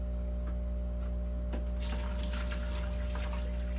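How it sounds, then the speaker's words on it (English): Aquarium water siphons through a tube into a bucket as a soft, close trickle and splash, under a steady low hum from the tank equipment. "All you have to do is start the siphon that goes through the tube and into the bucket."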